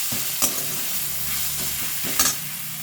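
Chicken with garlic paste stirred and fried in a pan over a low gas flame, a steady close sizzle broken by a few sharp scraping strokes of the spoon.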